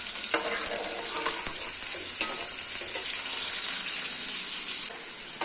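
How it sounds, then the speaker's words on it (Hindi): Onions frying in ghee for a dhaba-style chicken keema, a steady close sizzle with bursts of stirring and scraping in the pan, continuous throughout with no talk. "थोड़ा सा प्याज ज़्यादा डालेंगे, इसको फ्राई कर लेते हैं।"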